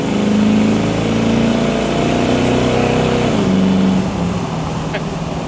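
A supercharged 1964 Studebaker Avanti coupe pulls away, its engine note steady and close, then dropping and fading slightly as it drives off.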